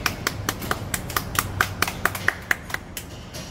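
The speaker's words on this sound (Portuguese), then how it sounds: "Palmas pra ele." A small audience gathered in a Brazilian car workshop claps hands in a short, loose burst of distinct, close claps that fade toward the end.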